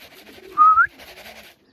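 A racing pigeon returning to its loft after a 797 km race from Christchurch, New Zealand, gives a single short, clear whistling call, close, with faint rustling before and after and no talk.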